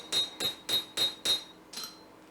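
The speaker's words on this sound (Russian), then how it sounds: "для этого я ее разгоняю с помощью полукруглого байка молотка" A hammer with a rounded peen forges the end of a 12 mm steel bar on an anvil: five sharp, ringing strikes in a quick even rhythm, then a softer sixth blow.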